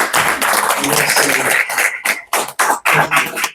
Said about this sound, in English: Give yourselves a round of applause for your interest